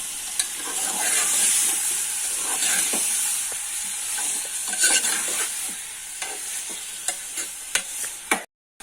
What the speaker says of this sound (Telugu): ముందుగా కడిగి పెట్టుకున్న చికెన్ వేసుకోవాలి. ఇప్పుడు కాస్త కలుపుకోవాలి.